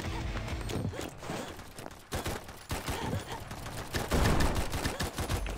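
Rapid bursts of automatic weapon fire in a combat-zone shooter game, dense and continuous over several seconds, loud and close with clustered shot transients and no talk over it.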